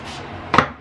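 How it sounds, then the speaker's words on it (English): A quick burst of hairspray from an aerosol can, a short hissing spray lasting about a quarter second after a quiet stretch. "We're gonna quickly hairspray."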